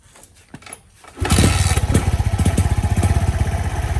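An unplugged motorcycle-type engine with no battery fitted cranks after a few quiet clicks, then catches and settles into a loud, steady, pulsing idle close by.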